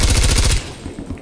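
A Call of Duty Black Ops Cold War sentry turret firing a fast, loud automatic burst of evenly spaced shots for about half a second, followed by quieter scattered gunfire.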